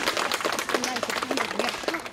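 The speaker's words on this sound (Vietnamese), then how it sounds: "Có một tràng pháo tay." A gathering at a Buddhist temple in Cu Chi, Vietnam gives a brief round of applause, a short burst of scattered clapping mixed with a few voices.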